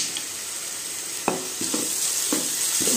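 A spoon stirs raw prawn curry with turmeric in a pan over a low steady sizzle, with four distinct scraping strokes spaced roughly half a second apart, close and clear, and no talking.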